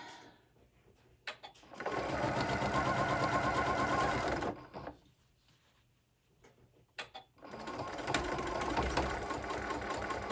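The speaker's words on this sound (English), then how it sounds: "Boy, that baby just went right on through that cloth" A sewing machine stitches through a thick lump of cloth while making a pouch, running in two steady bursts of rapid mechanical chatter separated by a quiet pause with faint handling clicks.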